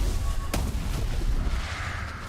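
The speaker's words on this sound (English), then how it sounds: "At least these guys are blast cannons." Blast cannon enemies firing in the Path of Magic video game: one sharp booming shot stands out near the start, then a dense, rumbling game soundscape continues.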